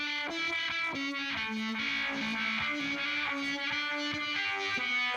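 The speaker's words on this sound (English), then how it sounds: "Guitar solos work so great with this kind of reverb." Distorted electric guitar solo played through Dirty Dog reverb with drive, with a steady run of bent, sustained notes that wash into a thick, aggressive reverb tail, loud and alone.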